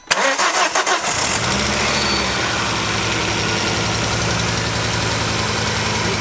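Ford Focus ST Mk2 engine cranking and catching, then running loud and steady with a rough, uneven misfire while a coil pack is being swapped; no talk.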